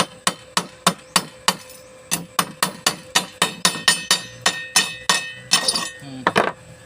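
A hammer taps an automatic welding mask in a steady run of sharp, ringing strikes on its hard hollow surface, about three per second, close up and alone.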